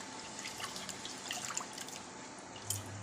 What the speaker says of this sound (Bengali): খুদটা এরকম জল দিয়ে আমি 2-3 বার ধুয়ে নেব।